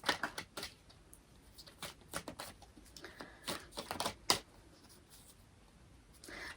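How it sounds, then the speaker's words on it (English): Tarot cards being shuffled clatter in quick, crisp snaps and riffles, coming in uneven clumps close by, then trailing off into quiet. "These cards are weird to shuffle."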